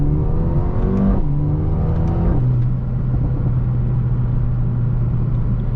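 Engine of a Mercedes-AMG A35 heard from inside as it drives through a roundabout: a loud, close hum rising in pitch, then dropping with quick gear changes before settling into a steady drone.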